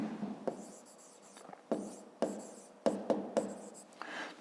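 Handwriting during a fifth-grade math lesson comes through as a series of quiet scratching strokes in short bursts, separated by brief pauses, with no talking.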